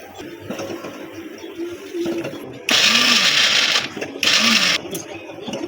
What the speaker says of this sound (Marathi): आता मी हा सर्व ग्रँडर मशीनमध्ये ग्राइंडर करून घेणार आहे